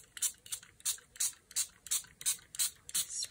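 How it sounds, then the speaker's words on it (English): Coffee is sprayed onto paper to dye it in about ten quick, evenly spaced hissing bursts from a pump spray bottle, close and fairly soft. "Spray around with coffee."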